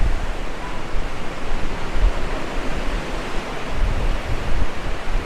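Sea waves roll in under Clacton pier among concrete pillars, a steady, loud, broadband wash of surf with no voices.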